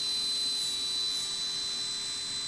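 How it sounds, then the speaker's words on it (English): A jeweler's micromotor spins at its maximum speed of about 30,000 RPM while texturing a ring blank, giving a steady, thin high-pitched whine that holds constant throughout, with no speech. "So your micromotor is running at its maximum speed."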